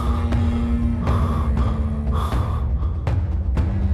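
Sharp gasping and heavy panting as someone jolts awake in a horror story, several loud, close breaths in quick succession with no talking.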